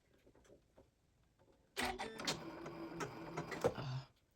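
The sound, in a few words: sewing machine stitching a sling pouch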